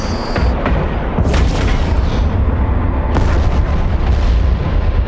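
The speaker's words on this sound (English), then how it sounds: "both our guns are firing on him" Ship guns firing in EVE Online, heavy booming blasts rolling over a dense low rumble, with repeated loud bursts through the clip and no voices.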